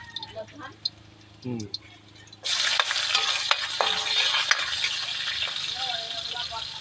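Chopped garlic and ginger drop into a hot pan, setting off a sudden, sustained sizzle close by after a quiet stretch of a voice and light clinks. The frying crackles steadily with small spatters.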